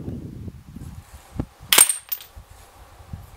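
An Umarex Buckmark air pistol fires a single quiet, sharp snap, followed by a faint metallic ping from the target, with soft handling noise around it.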